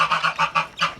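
Geese honk on a farm, four quick nasal honks in a row, close and loud with no talk.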